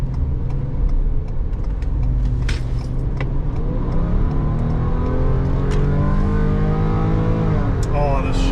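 The 3.3L hybrid engine of a Ford Police Interceptor Utility SUV revs and holds steady at high RPM while accelerating, loud and close, with a continuous rising drone throughout.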